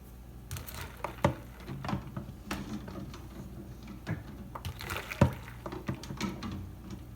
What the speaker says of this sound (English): going to scoop these out into our ice water bath right here